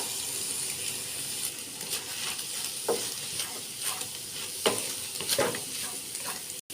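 Ginger frying and being stirred in a pan for egg fried rice gives a steady close sizzle, broken by several sharp scrapes and knocks of the stirring, with no voices.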